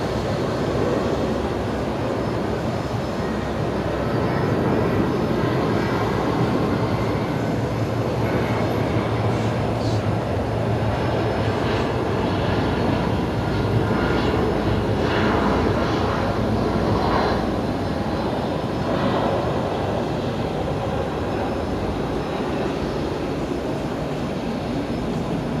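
A Titan Airways BAe 146 jet at Brisbane Airport at night, a loud sustained engine roar that holds steady throughout, broad and rumbling with no talk over it.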